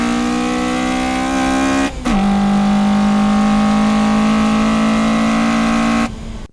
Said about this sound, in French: le son moteur de la E86